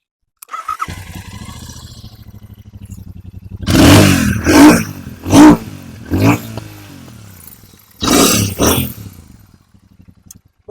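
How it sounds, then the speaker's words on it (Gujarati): Royal Enfield Super Meteor 650 parallel-twin engine with original twin silencers, loud and close: a starter crank, then a rumbling idle, several sharp throttle blips in quick succession, a pause, and another pair of revs. "ડબલ સિલિન્ડર એન્જિન આવશે મિત્રો, બંને સાયલેન્સર કંપનીના ઓરિજિનલ છે"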